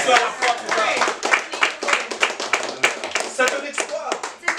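A church congregation applauds the Lord during a French-language sermon, a dense, steady burst of many hands clapping together, loud and close, with some voices mixed in.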